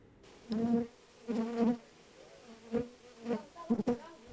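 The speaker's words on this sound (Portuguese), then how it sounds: "A criação de abelhas sem ferrão se tornou uma opção de negócio no leste de Minas Gerais." Stingless bees buzz at a meliponiculture farm in eastern Minas Gerais, heard close up as a series of short droning bursts that swell and fade, with quieter gaps between them.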